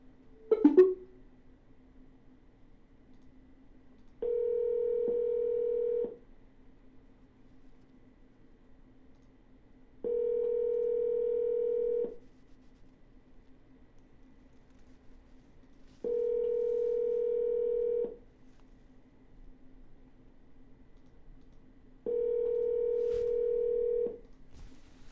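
A telephone ringback tone sounds in four evenly spaced, steady two-second pulses after a brief click, clear and alone over faint line hiss while a call is redialed.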